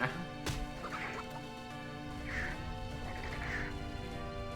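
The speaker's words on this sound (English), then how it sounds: "A whole bunch of chickens come through here." Chickens cluck in a World of Warcraft game, several short, faint clucks over a steady hum of game sound and music, with no speech.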